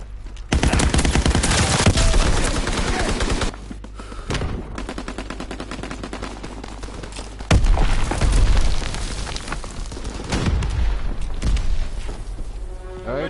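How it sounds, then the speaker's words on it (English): Heavy battlefield combat in the Call of Duty WW2 beta on PS4, with a thrown grenade going off amid loud, continuous gunfire and deep booming blasts, big bursts near the start and again around the middle. "Tossing grenade!"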